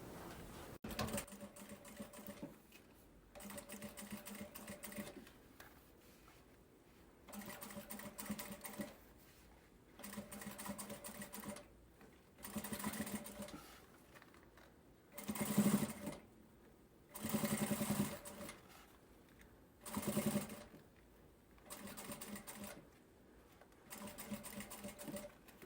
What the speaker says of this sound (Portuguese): vamos começar a costurinha pezinho de máquina.